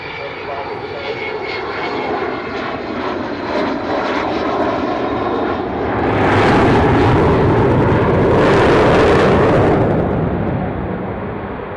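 Large airplane coming in to land with its wheels down, a loud, steady jet roar that swells midway as it passes close, while a voice talks over it.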